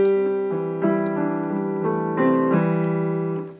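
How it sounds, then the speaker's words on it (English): Piano tone from an electronic keyboard, played alone: a few sustained chords struck one after another, ringing clearly and fading out at the end, close and fairly loud with no talking. "Here's the sound of a piano."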